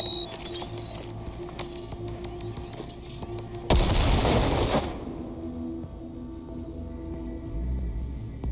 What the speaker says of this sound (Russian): Взрывай гранату.